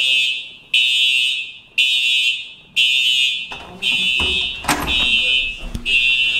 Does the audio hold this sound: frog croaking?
no